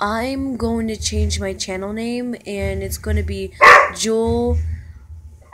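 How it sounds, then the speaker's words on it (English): A dog gives a short bark over a young person's continuous close talking. "I'm sorry about my dog. She keep on barking and I hate it."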